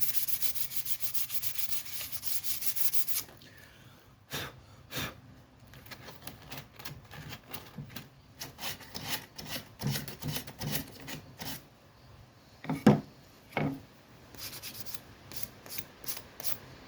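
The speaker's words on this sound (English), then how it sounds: "I've cleaned this up with an old sanding pad, gotten the worst of the grime and crud off of it" An old sanding pad scrubs grime off a piece of wood in close, steady strokes, with a continuous rasp for the first few seconds and then shorter, separate rubs with brief pauses between them.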